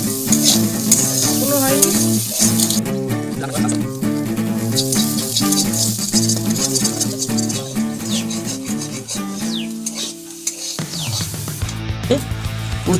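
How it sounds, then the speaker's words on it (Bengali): Bitter gourd fries in a pan on a village-style clay stove with a continuous crackling sizzle and stirring scrapes, up close. Tonal music plays over it throughout. "উচ্ছে ভাজা হয়ে গেছে"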